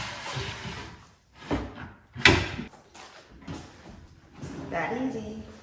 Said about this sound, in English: I'm gonna put the cabinet drawers in here.